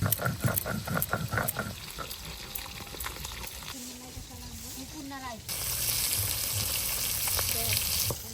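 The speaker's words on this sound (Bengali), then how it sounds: "মাছের ঝোলের আলুটা ভেজে নেব।" Potatoes for a cumin-and-coriander fish curry fry in a pan with a steady crackling sizzle, voices talking over it early on before the hiss swells louder and fuller toward the end.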